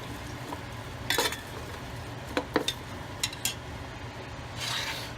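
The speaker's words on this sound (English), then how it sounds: "Nice chunky onions, stir them in." Chunky onions are stirred in a hot, large pot for clam chowder, giving soft scraping rubs and a few brief clinks over a steady low sizzle, close and alone without talk.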